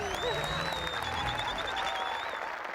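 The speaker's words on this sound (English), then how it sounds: "Clap again!" Studio audience applauding steadily at a Hindi talk show taping, a dense continuous clatter of many hands, fairly close, with faint voices and a tonal music line running underneath.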